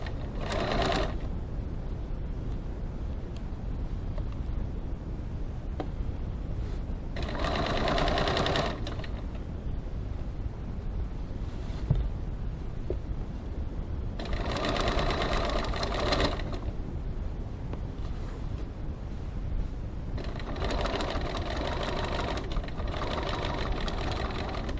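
A sewing machine stitches a boot-shaped gift bag in several separate runs of one to two seconds each, with quieter handling and room noise between them.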